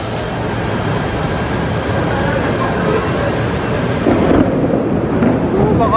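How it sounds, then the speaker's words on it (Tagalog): Heavy rain pouring near the Rapid KL station in Kuala Lumpur, a loud continuous wash of noise that stays dense and steady throughout, with a faint rumble beneath it. "So, ang lakas ng ulan."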